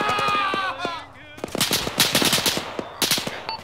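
Arma combat gunfire: a voice speaks at first, then sharp, loud bursts of automatic fire crack out in quick irregular volleys.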